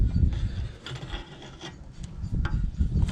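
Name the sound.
unscrewing a Volvo V70 inner track rod end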